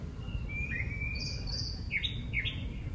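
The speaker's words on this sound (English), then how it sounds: "Birds are chirping." Birds chirping outdoors on a morning after overnight rain, a few high, thin tweets and short trills rising over a constant low rumble of background noise.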